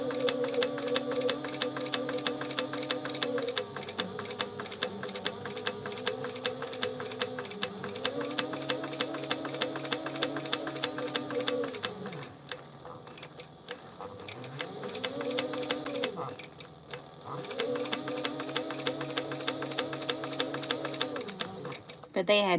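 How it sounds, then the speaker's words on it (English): A sewing machine stitches steadily around a small fabric pouch with a narrow 1/8 inch seam, its rapid needle clatter running in long bursts with brief pauses to turn the work, while someone talks over it. "I'm just gonna stitch this all the way around with 1/8 of an inch seam"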